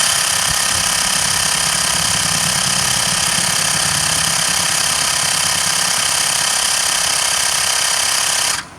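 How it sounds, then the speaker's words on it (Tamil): A new Mi portable air compressor starts up and pumps steadily at close range, a loud continuous buzzing rattle that runs unbroken for several seconds and then cuts off abruptly. "35 செட் பண்ணிவிட்டு ஆன் பண்ணோன்னா நமக்கு உடனே கம்ப்ரஸ் ஆன் ஆக ஆரம்பிச்சிடும்."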